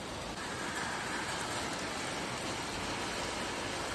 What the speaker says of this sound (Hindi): बहुत ही खतरनाक बारिश हो रही है।